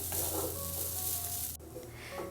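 Grated coconut dry-roasting in a pan gives a steady, close sizzle and soft crackle with light scraping as it is stirred, a brief clatter near the end, and no voices.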